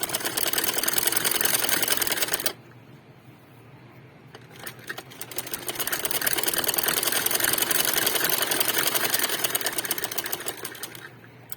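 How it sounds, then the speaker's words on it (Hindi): A sewing machine running double stitching on fabric, a loud, close, steady whirring drone that cuts out briefly, then returns with a stretch of quieter rattling stitches before the whirring builds back up and continues to the end. "अब मैं ये डबल सिलाई लगा रही हूँ।"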